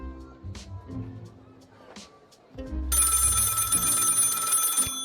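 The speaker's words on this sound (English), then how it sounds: "Our phone is ringing." Telephone ringing in the video game Lil' Guardsman, a bright electronic ring that starts partway through and sounds loudly and steadily over game music, with someone talking before it.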